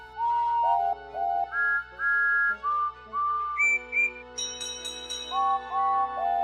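Steam engine whistles sound together in harmony near a church, playing a slow tune of sustained, pure tones. Short pauses separate the phrases, several whistles sometimes overlap in chords, and they are heard clearly with no talking.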